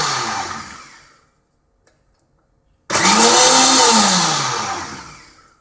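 A blender whips cream into butter at home, whirring loudly and closely, then dying away into a pause of near silence before starting again at full power and slowly winding down.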